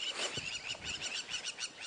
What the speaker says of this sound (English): crowned lapwing was the noise